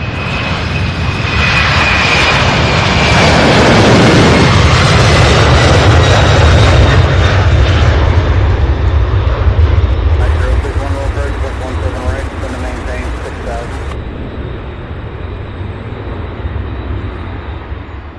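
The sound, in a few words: Boeing 757 jet taking off at UPS Worldport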